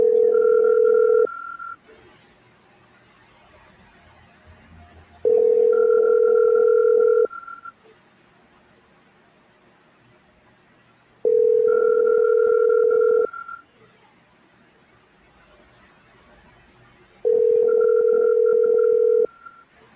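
A phone ringback tone repeats four times, long rings separated by silent gaps, continuing unanswered with no voice picking up.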